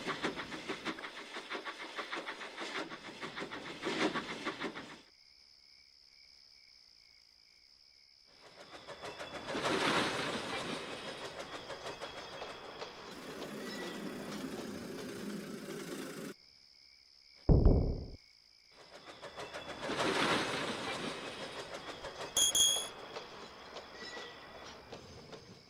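A steam train with a passenger coach rolls along the rails at night, its rumbling runs broken by quiet gaps and a sharp squeal of braking partway through.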